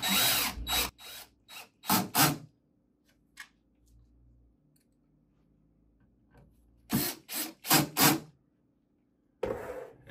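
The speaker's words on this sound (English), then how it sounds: "low torque when screwing them back in." Set screws are driven back into the collar of a disk skimmer at low torque. Short, close, scraping and ratcheting tool bursts come in clusters near the start and again toward the end, separated by quiet stretches.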